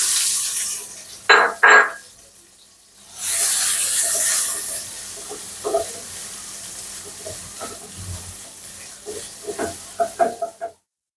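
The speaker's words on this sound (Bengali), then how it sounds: "মাছ ভাজা তেলের মধ্যে দিয়ে দিলাম পেঁয়াজ," Sliced onions and green chillies hit oil left over from frying tilapia, setting off a loud burst of sizzling that settles into a softer crackle, with a few clinks and stirring taps close by.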